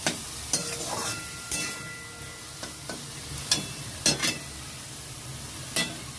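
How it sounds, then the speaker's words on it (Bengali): Soybean chunks fry in hot oil with a continuous soft sizzle, broken by several sharp scraping and clinking strokes of a spatula against the pan at irregular intervals. "দেখো, সয়াবিনগুলো ভালোভাবে লাল লাল করে ভেজে নিয়েছি"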